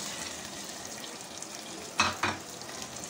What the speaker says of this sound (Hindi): ये भुनाई असल है इस वक्त ना गोश्त के